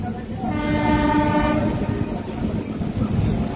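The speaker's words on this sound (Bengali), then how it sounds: "ওই ক্রসিং থেকে আমাদের ট্রেন ডান দিক ঢুকবে" A passenger train on the Kolkata to Digha route rolls along the tracks near a junction crossing, with a loud horn sounding early over steady close rumbling and clacking wheels that continue after it stops.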